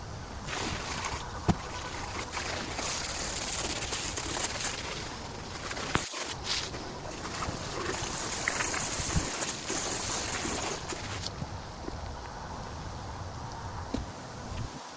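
Spraying water splashes steadily against a 1995 Yamaha WaveVenture jet ski outdoors, with a few knocks and shifts in the spray.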